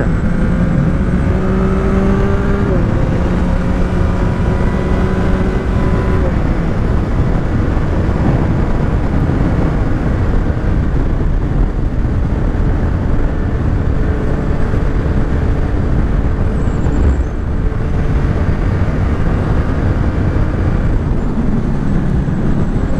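A Yamaha MT-09 SP motorcycle engine drones loud and close while cruising in sixth gear, a steady rough roar with a brief pitch drop near the start and faint wind rush, with no talking.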